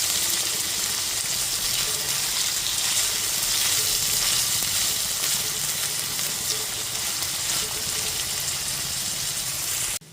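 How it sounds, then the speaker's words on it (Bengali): Large chopped onions sizzle steadily in a pan over a medium flame, a continuous close hiss and crackle of frying that cuts off abruptly at the end, with no talking. "পেঁয়াজটাকে খুব ভালো মতো ভেজে নেব।"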